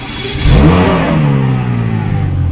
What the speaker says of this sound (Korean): 그렇다면 제가 배기음도 한번 들어볼게요